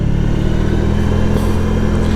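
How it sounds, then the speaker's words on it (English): Steady, loud engine drone of a motorcycle on the move, with wind rush and no voices. "I'm going up for a motorcycle ride."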